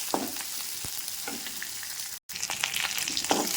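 Onions sautéing in hot oil with curry leaves, a steady close sizzle with faint stirring scrapes and a brief dropout midway.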